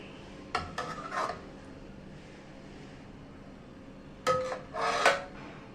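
A spatula scrapes through a pan twice as cluster beans are tossed with salt and curd, with brief rasping bursts over a low, steady kitchen hum.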